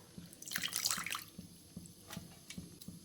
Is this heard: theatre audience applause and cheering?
no